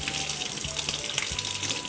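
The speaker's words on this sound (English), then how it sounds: "So you just kinda run the warm water over that" Warm water runs from a kitchen tap over a plastic popsicle mold, a close, steady splashing stream under a hiss of flow with no talking.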